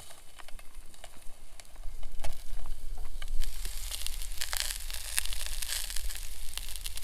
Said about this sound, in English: Those sausages are sizzling quite nicely now.